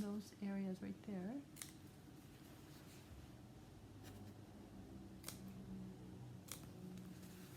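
Scissors snip through fabric seams on a custom dress form, a few sharp, quiet clicks spaced out over several seconds after a brief bit of talk at the start.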